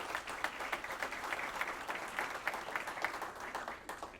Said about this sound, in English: Round of applause for Jack.